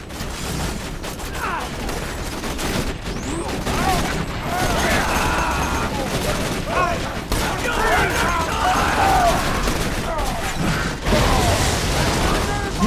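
Turret gunfire rattles through a Borderlands 2 firefight, dense bursts of shots and mechanical clatter layered with game effects and voices, loud and continuous for the whole stretch.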